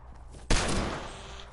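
A single loud burst of video game gunfire, likely from a hunting rifle, hits sharply, then decays into a lingering rumbling tail, with no talk.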